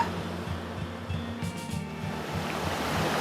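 Steady rushing water fills the scene, a broad continuous wash of a big, wide flowing creek at a crossing on Noland Creek, with a low mechanical hum underneath.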